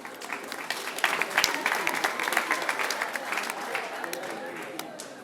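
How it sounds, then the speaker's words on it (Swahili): Guests at a wedding ceremony clap together in a lively burst of applause, with sharp individual claps standing out and some voices mixed in. "Tunaweza tukampongeza kwa makofi."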